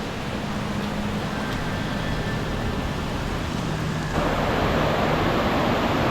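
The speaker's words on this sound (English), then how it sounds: "It's just started raining on the first night that we're here" Steady rain falls at night on a snake-infested island in the wild, a dense, even hiss with no voices, growing slightly heavier toward the end.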